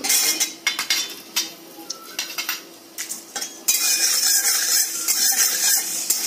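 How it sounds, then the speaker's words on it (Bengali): Whole coriander seeds stirred in a hot wok with a metal spatula, scraping and clinking in quick irregular bursts, then a steadier sizzling rush as the seeds toast in oil. "ধনেটা দেওয়ার পর আমি একটু নেড়ে নিয়েছি।"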